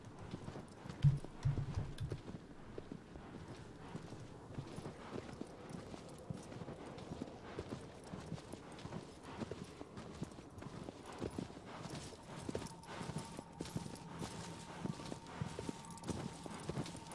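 Steady, rhythmic video game horse hoofbeats clip-clop continuously at a walking pace, faint and even, with a soft background hum.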